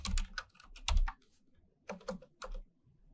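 Keys clatter on a computer keyboard as a key name is typed, in several quick bursts of clicks separated by short pauses, close and clear with no talking.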